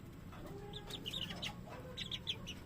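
Pumpkin hatch cross hens cluck softly in short repeated calls, with a few clucks stacked close together, over a quiet farmyard background; faint and fairly near, no talking.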